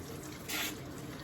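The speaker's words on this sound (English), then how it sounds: "I will take the hose and literally sit it right on top of their head and let the water trickle over top of their head" A hose rinses water over a dog's coat during a bath, a short close splashing gush that swells briefly mid-clip over a low running-water hiss.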